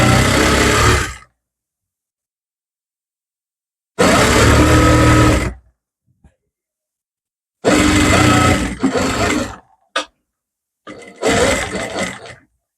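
A sewing machine stitches along the edge and lining of a dress in four separate loud bursts of steady whirring, each a second or two long, with silence between them and a brief click near the end.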